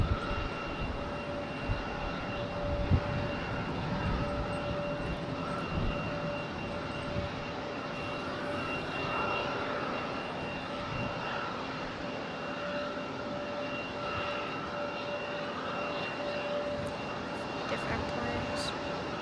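JetBlue airliner taxiing toward the runway at Raleigh-Durham International Airport, a steady distant jet engine hum with a faint tonal whine, running continuously beneath outdoor ambience and occasional voices.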